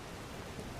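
Steady rain hisses across the whole short moment in the video game Enderal, a Skyrim mod: an even, close wash of falling drops with no break or distinct individual impacts.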